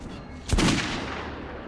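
Single gunshot at a firing range in Metro: Last Light Redux, one sharp close report with a booming echo that lingers and fades over a low background hum.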